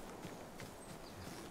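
Faint clip-clop of horse hooves from the samurai video game Ghost of Tsushima plays at a steady walking pace under ambient game noise.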